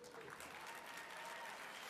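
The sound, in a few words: audience clapping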